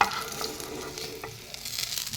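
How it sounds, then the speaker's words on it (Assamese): Fish pieces fry in hot oil for a fish curry with green peas and cauliflower, a continuous close sizzle and crackle with soft stirring, no voices. "এনেকৈ ৰং চুমুৱা কৰি ল'ব মাছখিনি।"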